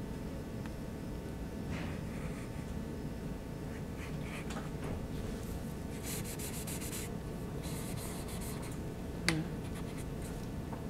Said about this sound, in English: And then I can start to shape them a little bit with my eraser.